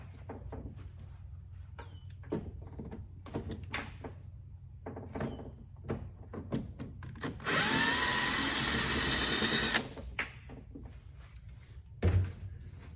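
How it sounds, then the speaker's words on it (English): A 4mm Allen socket on a ratchet removes a bolt from the DME of a BMW E46, with scattered clicks and taps and a sustained whirring burst of a few seconds midway, then a thump near the end. "you're gonna use a 4mm Allen head socket to remove that"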